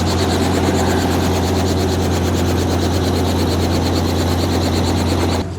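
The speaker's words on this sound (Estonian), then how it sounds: "Selline helikopter siin siis." A helicopter's engine runs steadily and loudly at a military show, a constant low drone with a rhythmic rotor pulse that holds throughout and cuts off abruptly near the end.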